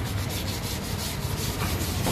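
Steady, close scraping of sandpaper wet-sanded with water back and forth over a surface during house painting work, in quick continuous strokes with a slightly wet, gritty texture.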